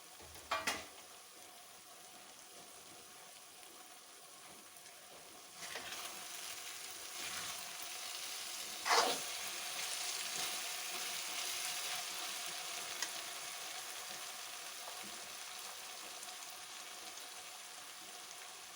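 Okra fries on a slow gas flame in a pan, making a faint, steady sizzle with occasional stirring scrapes and a louder clatter early on. No one talks.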